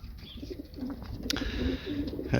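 Domestic racing pigeons coo softly in a loft, giving low, repeated throaty calls at a fairly quiet level. A brief flutter or clatter breaks in partway through.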